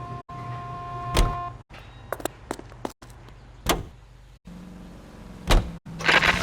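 A car in L.A. Noire, with sharp door thuds and clicks breaking up a low, steady engine hum, followed by a brief rising burst at the end.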